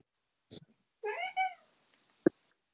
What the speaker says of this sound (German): War das ein Kater?